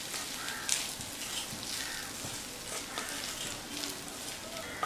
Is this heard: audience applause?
no